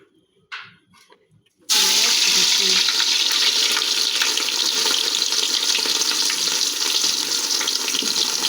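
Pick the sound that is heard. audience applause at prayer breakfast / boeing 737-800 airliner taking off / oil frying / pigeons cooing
oil frying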